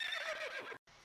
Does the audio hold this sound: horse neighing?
yes